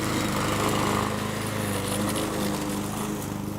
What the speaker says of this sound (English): First, cut the lawn on a low setting to expose all the bare spots.